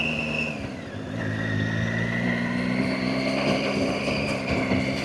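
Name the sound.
motorcycle riding on loose gravel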